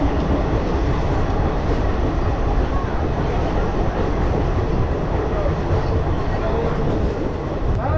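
A train pulls into a station in the Haldibari–Jalpaiguri area of West Bengal, a loud, steady rumble of rolling wagons filling the whole stretch with faint rail clatter beneath.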